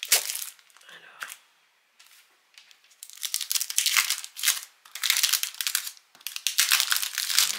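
Crisp paper crinkling and crackling in bursts, close up and loud, with brief pauses between handlings of the packaging.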